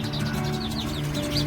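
Sparrows chirping around many nest boxes set up at a roadside temple, a few short bright chirps scattered over a steady low background hum, fairly close and moderately loud.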